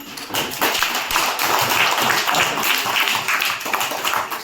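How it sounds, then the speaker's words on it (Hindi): A classroom of students claps loudly and continuously, a dense, even burst of many hands applauding together for several seconds with no talking over it. "सारे बच्चे भाई एक बार जोरदार तालियां बजा दो"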